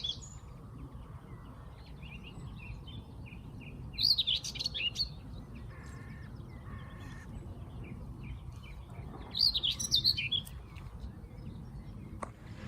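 Common whitethroats giving short scratchy song phrases along an English hedgerow in May, two brief bursts of chattering song over a steady low outdoor background.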